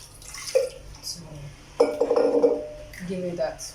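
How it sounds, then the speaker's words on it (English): Water is added to a thick banku mixture of fermented corn and cassava dough in a pot, with clinks of utensils and wet stirring sloshes under a person speaking. "I'm going to go ahead and add some little water"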